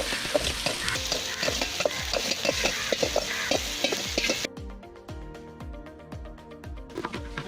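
Tapioca and beef biryani mixture being stirred in a pan, with a steady run of spoon scrapes and knocks over a sizzling frying hiss that drops away halfway through, leaving the stirring clatter louder and clearer.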